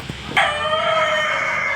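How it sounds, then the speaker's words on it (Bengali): A native Bangladeshi rooster among farm chickens lets out a single loud, sustained crow that starts sharply and holds for over a second, close to the listener. "দেখতে পাচ্ছেন এখানে দেশীয় মুরগি আছে"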